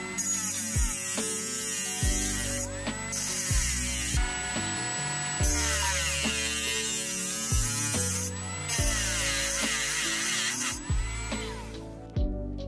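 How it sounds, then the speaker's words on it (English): A cutting machine slices open a USB-C connector with a steel sleeve, producing a steady high-pitched whine and grinding hum whose pitch repeatedly drops and rises as the blade bites into the metal. "Use the cutting machine to cut it open."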